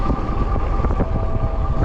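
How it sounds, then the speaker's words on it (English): Wind buffeting a microphone during a ride on an Ecotric 20-inch folding fat-tire e-bike, a steady low rumbling roar that continues without a break and with no one talking. "if this wind keeps up, I'll have the wind at my back on the way home"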